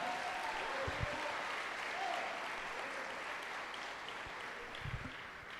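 A church congregation claps together in sustained applause, a dense even wash of many hands spread through the room, heard at moderate distance with faint voices mixed beneath.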